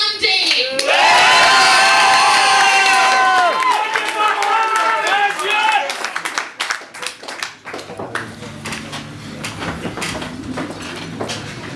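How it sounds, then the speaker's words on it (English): At an open mic stand-up comedy show, a crowd bursts into loud applause and cheering with shouts and whoops early on. The clapping carries on and thins toward the end while voices chatter underneath. "of applause for Mr. John Dave"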